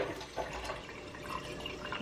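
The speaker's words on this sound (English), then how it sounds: "I'm spilling water all over the counter." Water spilling and splashing onto a kitchen counter, a brief continuous liquid wash with a few dripping sounds, close and fairly quiet.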